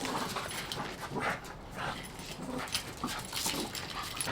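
Dogs whimper, yip and pant somewhere in a room behind the reader, a steady busy mix of thin whines and short yelps with no speech over it.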